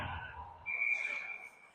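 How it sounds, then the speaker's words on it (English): Referee's whistle called for offsides during a youth ice hockey game, one sharp sustained blast lasting under a second, heard clearly above the rink's background noise. "the whistle's blown for offsides on Des Moines"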